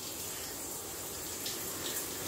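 Water from a shower runs in a steady, even hiss that fills the whole stretch, with no voices over it.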